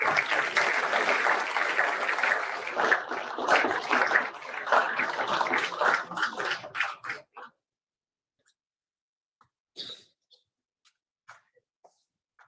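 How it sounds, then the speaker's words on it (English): An audience at a national security conference gives a round of applause, a dense burst of clapping that runs for several seconds and then stops abruptly, leaving near silence with a few faint scattered noises. "Big round of applause."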